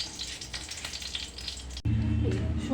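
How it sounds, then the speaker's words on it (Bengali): A dried red chili fries in a spoonful of oil in a wok for mango chutney, a soft steady sizzle that jumps to a louder, fuller crackle partway through, close and without talk. "শুকনো লঙ্কাটাকে ভালো করে লাল করে ভাজবো"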